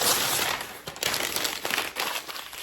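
Crinkling paper being pulled and pressed into a Mother's Day gift basket, close and fairly loud, a run of crisp rustles and crackles with brief pauses and no speech.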